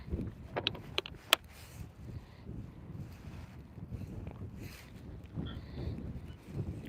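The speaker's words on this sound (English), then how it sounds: "this wind just kicked up something fierce" Strong wind gusts buffet the microphone outdoors while fishing for trout and catfish, a low rumbling roar that rises and falls, with a few sharp knocks and handling clicks near the start.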